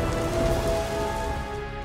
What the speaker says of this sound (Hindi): बरसातें